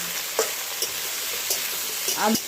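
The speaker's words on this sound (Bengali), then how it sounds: "আলু আর ডাঁটা অনেকটাই ভাজা হয়ে গেছে" Potato pieces and drumsticks fry in plenty of oil in a pan, giving a steady sizzle broken by several short scraping knocks as they are stirred.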